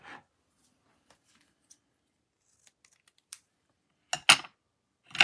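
Stamped paper flower trimmed with scissors in a quiet room: a few faint snips, then two louder, crisp cuts near the end.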